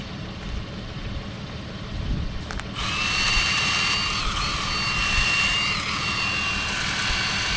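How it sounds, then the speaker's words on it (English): A small chainsaw revs up after a few seconds of quieter rumble, then runs steadily at a loud, high whine while cutting alder brush. "Well, I'm glad I got that little chainsaw."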